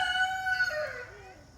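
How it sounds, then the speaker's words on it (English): Roosters crowing in the background on a pig-raising farm, a drawn-out tonal crow lasting over a second, fairly faint and distant, with no talking over it. "chickens or roosters crowing in the background."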